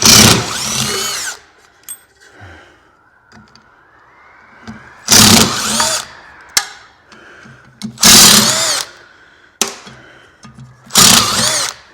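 A power drill backing screws out of the top of a large scrap alternator: five loud, whining bursts of a second or so each, separated by quiet pauses with small clicks and metal clanks.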